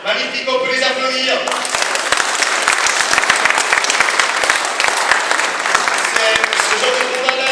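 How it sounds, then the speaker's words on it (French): Loud audience applause breaks out after a kendo fighter's bout against a rapier-and-dagger fencer, dense clapping that swells in and holds steady, with a voice talking over the start before it takes over. "on peut les applaudir."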